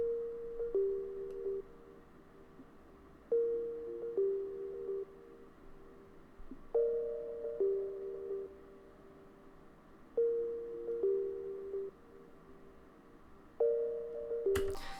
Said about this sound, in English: Then we have this counter melody I also made using the same preset.